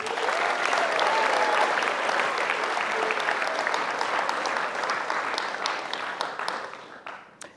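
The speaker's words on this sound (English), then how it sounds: "can we give him a round of applause?" An audience at a school Martin Luther King Jr. commemoration applauds loudly and steadily, a dense roomful of clapping that holds strong before thinning out near the end.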